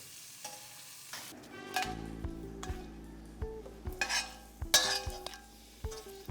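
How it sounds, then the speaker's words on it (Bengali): Small prawns coated in salt and turmeric fry in oil in a pan, a steady close sizzle broken by repeated clinks and scrapes of a spatula stirring against the metal. "ছোট চিংড়ি নুন হলুদ মাখিয়ে ভেজে তুলে রাখবে"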